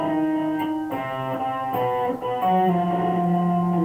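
A distorted electric guitar plays an octave riff, a short sequence of sliding and picked note pairs, close and alone with no talk.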